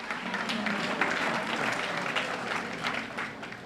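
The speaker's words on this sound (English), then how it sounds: "a little bit of applause in the back" Steady applause from an audience in a school hall at a scholarship night, dense clapping filling the room evenly for a few seconds with a faint murmur of voices beneath.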